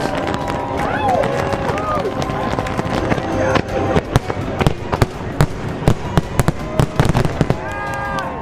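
Fireworks bursting in a rapid string of sharp cracks and pops, growing denser toward the end, over crowd chatter and whistling launches.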